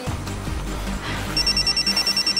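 A telephone ring cuts in partway through as a rapid, high, pulsing electronic trill that pulses evenly and loudly over a low, busy background.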